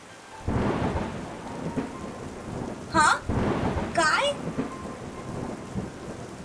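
Steady heavy rain roars throughout with deep rumbling thunder, while two short voice bursts cut through the downpour.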